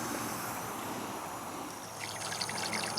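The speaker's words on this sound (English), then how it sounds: "I can run the water hose down into this drill hole here" Water from a garden hose runs down a drill hole bored into bedrock, making a faint, steady trickling and gurgling with a few brighter splashy drips near the end, no voices.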